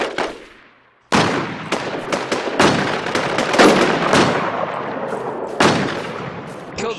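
Heavy video game gunfire in a snowy map, with loud bursts of automatic shooting and sharp shots rolling almost continuously after a brief quiet start, echoing and dense, with no voices.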